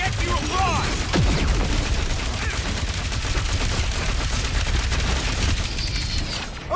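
Sustained gunfire in the Guardians of the Galaxy video game, a dense continuous fusillade with booms running the whole stretch, mixed with shouted voices and game effects.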